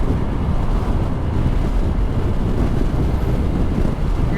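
Kymco Dink R 150 scooter speeding up on a highway, a steady loud roar of engine and heavy wind rush against the microphone, continuous throughout with no talk.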